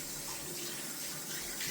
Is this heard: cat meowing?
no